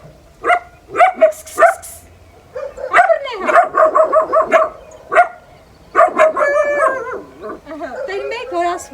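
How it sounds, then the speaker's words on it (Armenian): Dogs at a home bark and yip in short bursts, fairly close, alternating with a person talking over and between them. "անցկենողի վրա էլ որ հաչում են"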